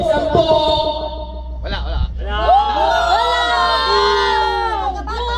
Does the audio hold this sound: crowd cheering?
yes